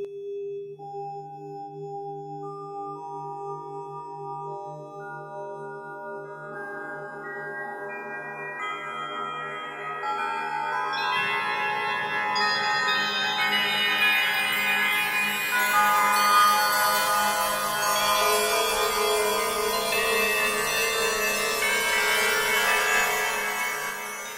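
Soundpaint Windchimes virtual instrument pitched down an octave so it resembles church bells: sustained bell-like tones that pile up into a dense, shimmering wash, steady and alone without voices.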